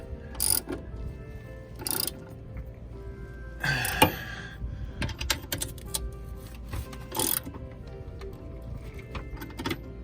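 A ratchet tightens bolts on an RV slide-out adjustment mechanism, heard as a few separate clicking bursts with quiet pauses between them. The clicks are close and fairly faint, and no one speaks.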